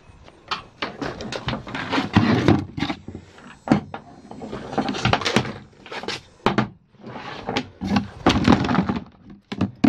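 A metal detectorist empties a heavy finds pouch of dug trash, pottery pieces and black glass, giving a run of clattering, clinking thunks and small crashes as the items tumble out close by, with no talking.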